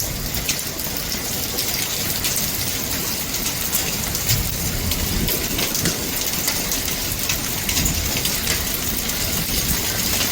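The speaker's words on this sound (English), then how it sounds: "the hail's blowing from the other side" Dense, constant pattering of hail striking grass, loud and close, with no voices.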